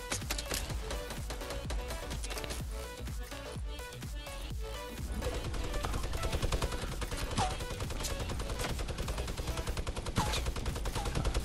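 Dense automatic gunfire from a Fortnite battle royale match rattles continuously in rapid, overlapping bursts, loud and close, with game sounds layered thickly underneath for the whole stretch.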